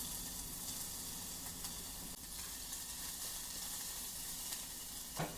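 Garlic and ginger in about a tablespoon of oil on a Vevor 22-inch flat top griddle heated to around 400 degrees, sizzling in a steady, dense hiss with no talk.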